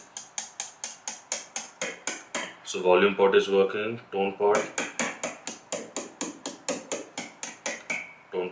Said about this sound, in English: I just tap it on the bridge pickup